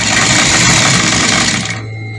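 An industrial sewing machine runs steadily, stitching fabric with a loud, dense, continuous mechanical whir that cuts off near the end, leaving a quieter hum.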